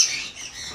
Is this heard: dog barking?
no